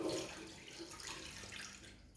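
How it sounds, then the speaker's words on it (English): Soaking water is tipped off cashews that have been soaked for two days, making a short, quiet splashing pour into a sink that fades after about two seconds. "I'll tip that water off."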